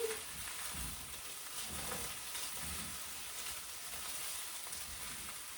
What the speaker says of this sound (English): I'm going to turn the heat down a little bit and add my veggies and cashews.